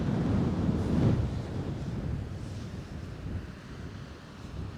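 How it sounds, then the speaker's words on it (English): Strong wind buffets the microphone on the beach at Coney Island, a steady loud roar with surf wash underneath that peaks early and then eases slightly. "It's so windy."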